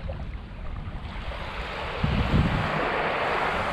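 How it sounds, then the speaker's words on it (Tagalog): Sea waves wash onto the shore of a Quezon coastline beside mountains, a steady broad surf hiss that swells slightly louder near the end, with wind in the background and no voices. "Dagat."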